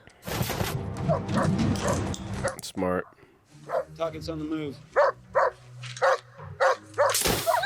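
Dog barking in the 2008 film The Incredible Hulk, a few short yips and woofs mixed under film dialogue, music and loud viewers talking over the scene.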